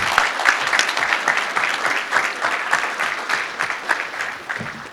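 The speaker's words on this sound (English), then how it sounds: "Everybody give these guys one more round of applause for me, please" A crowd at a PRI show, a racing and performance industry trade event, claps and applauds in a full, steady roar that holds for the whole stretch, easing slightly toward the end.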